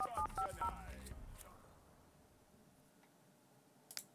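Touch-tone telephone dialing in The Sims 2 as a Sim places a call: a quick run of bright, evenly spaced keypad beeps in the first second, then a fading line tone and a single click near the end.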